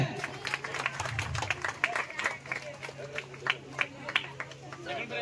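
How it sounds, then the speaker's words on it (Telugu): Scattered audience clapping for the prize winners of a junior lemon-and-spoon race at a community sports prize ceremony, steady but light, with a low hum and background crowd murmur. "క్లాప్స్ కొట్టాలి"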